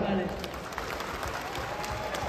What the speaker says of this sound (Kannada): ಶಶಿ ಸರ್ಗೋಸ್ಕರ ಒಂದು ಜೋರ್ ಚಪ್ಪಾಳೆ.